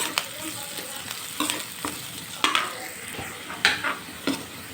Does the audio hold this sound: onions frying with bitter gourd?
yes